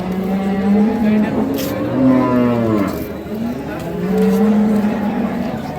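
A cow and calf at a cattle market selling Sahiwal, Sindhi and local dairy breeds moo loudly and close by in long drawn-out calls, one after another, over crowd noise and some voices.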